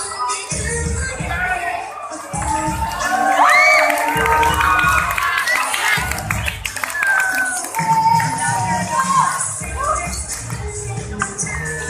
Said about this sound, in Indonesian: tepuk tangan yang meriah yuk